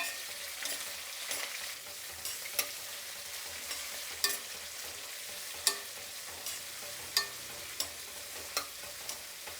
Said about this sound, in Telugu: ఇప్పుడు ఇది కొంచెం బాగా వేయించుకుందాం.